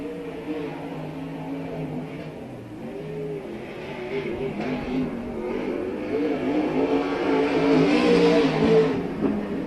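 A race car with a 416 motor and rocket chassis revs at a dirt-track speedway, its engine droning steadily and building louder toward the end, with crowd and track noise around it.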